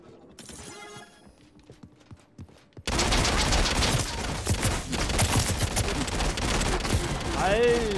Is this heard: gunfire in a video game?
yes